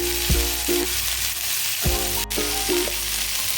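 Vegetables frying in coconut oil in a pan for an evening snack, a steady close sizzle broken by two bursts of scraping as the mixture is stirred, no talking.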